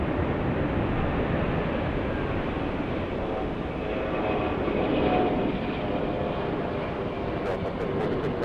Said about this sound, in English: we're going to have another A330 go around.